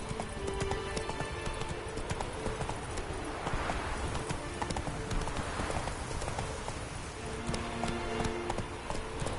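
Roach, the horse in The Witcher 3, gallops with steady, rapid hoofbeats that carry on throughout, over a soft wash of falling rain and occasional faint snorts.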